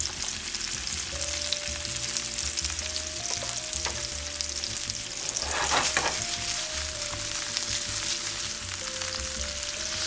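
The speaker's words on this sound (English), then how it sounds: "here I'm starting them in the frying pan" Taco-seasoned meatballs fry in a pan over medium-high heat, giving a continuous close sizzle and crackle with a brief louder burst of spattering midway and a faint tonal hum underneath.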